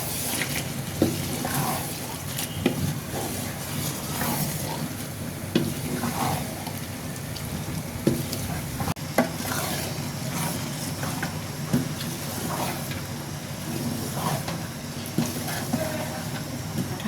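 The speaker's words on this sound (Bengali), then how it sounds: "এখন ডাঁটা আর ডালটাকে একটু ভালো করে কষিয়ে নেব।" Chana dal and vegetable stems stir-fried in a pan, a steady sizzle with repeated scraping strokes of a spatula throughout.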